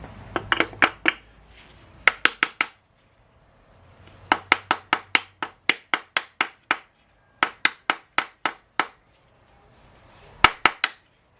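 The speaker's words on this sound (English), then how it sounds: "Just kind of tap it, try to break it loose." Sharp metallic taps of a small hammer on a 5.2 Magnum engine part, trying to break it loose, in quick bursts of four to six, pausing between groups, close and fairly loud with no talking.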